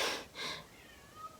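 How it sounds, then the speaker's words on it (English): Pet cat meowing indoors, two short, fairly faint cries in quick succession, followed by a quiet, thin tail of sound. "my cat won't shut up"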